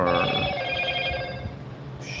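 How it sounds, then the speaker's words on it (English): A telephone rings loudly and continuously up close, its bright trilling bell tone persisting throughout with a slight shift in pitch near the end, and no voices over it. "shut up, you stupid phone. Other phone."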